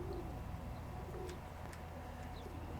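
Pigeons coo softly in a low, quiet murmur against faint background hiss, with a couple of brief higher chirps standing out.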